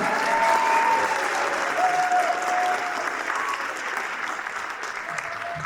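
Audience at a high school fall concert applauding the student performers, dense sustained clapping filling the room and slowly tapering, with some voices mixed in.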